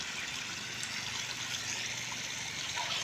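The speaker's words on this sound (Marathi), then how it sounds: "पाण्याचा फोर्स पण चांगला आहे बघा." Water from a newly struck borewell on a farm gushes out in a steady, hissing rush, continuous and fairly faint, with no voices over it.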